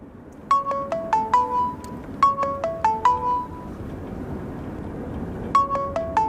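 A mobile phone ringtone plays in a home, a bright repeating melodic phrase heard in three bursts with pauses between them, fairly clear over a low background hum, with no talking.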